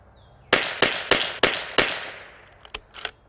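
A Bergara B14R heavy-barrel rifle fires Lapua Long Range ammunition, giving five loud, sharp cracks in quick succession, each trailing off with echo. Two fainter shots follow a moment later.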